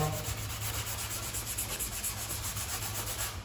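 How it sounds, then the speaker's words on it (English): Steady, close rubbing and scuffing with an abrasive pad across leather car interior upholstery to prepare it for paint, a continuous rasping sound with no talking. "In order for the paint to stick to this, it has to have a scuff to it."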